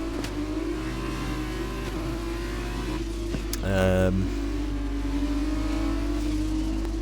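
Race cars in the rFactor 2 sim at the Azerbaijan Grand Prix drone and rev steadily, with one car sweeping close past midway through. A commentator talks over the engines.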